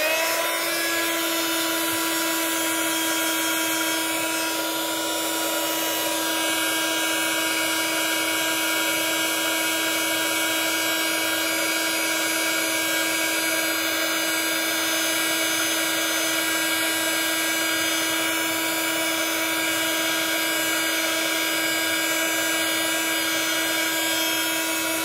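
An embossing heat tool for paper crafting blows with a loud, constant high-pitched whine and airy hiss, running close and uninterrupted throughout with no talking.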